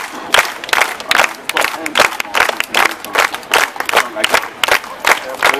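At a street comedy show in Southbank, Brisbane, an outdoor audience claps in loud, distinct rhythmic beats, roughly two per second, with scattered voices and cheers mixed in.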